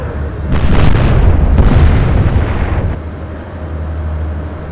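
Naval guns firing in the warship game Atlantic Fleet during a Battle of Jutland scenario: a heavy booming salvo with sharp cracks, then a long rumbling decay fading into low background noise.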